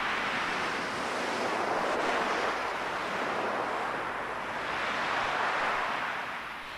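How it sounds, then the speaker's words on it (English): Ocean waves wash steadily against a coastline in a continuous broadband rush that swells and eases, with some wind buffeting the microphone and no voices. "The action of waves can wash away areas of coastline"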